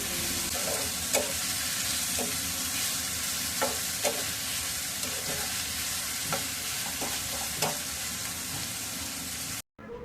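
Liver curry (kolija bhuna) frying in a pan, a steady close sizzle with occasional stirring clicks and scrapes, no voices.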